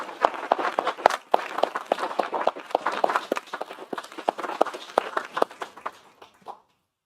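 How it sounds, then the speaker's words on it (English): A short round of applause for the outgoing mayor at an annual council meeting in Gloucester, with dense, moderately loud clapping from the room that tapers off and stops after about six seconds. "If you could join me in a quick round of applause for Lorraine."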